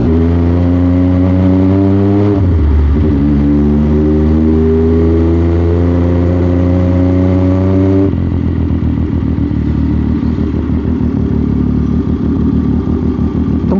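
A 2017 MV Agusta F3 sport motorcycle fires up and then revs hard, its loud, close engine note climbing and falling through rising harmonics before settling into a rough, steady, high-pitched roar.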